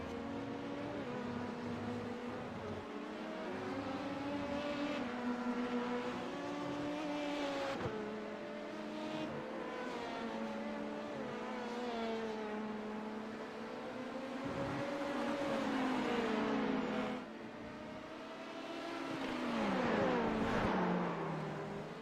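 Several race cars battle in a sim racing endurance game, engines droning and revving together as they swap positions, pitches rising and falling through gear changes, with a steady loud roar throughout and no talk.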